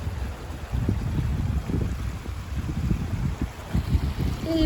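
The River Clyde flowing near the Falls of Clyde at New Lanark, a steady broad rush of moving water with low rumbling texture, constant and fairly close with no talk.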